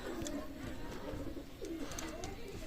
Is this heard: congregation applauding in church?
no